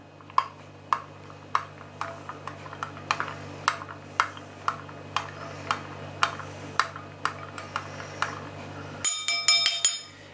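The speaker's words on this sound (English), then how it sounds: "I'm going to give that a stir." A metal spoon clinks rhythmically against a glass of blueberry glögg mulled wine, about fifteen bright, evenly spaced taps, followed by a quicker flurry of higher chimes at the end.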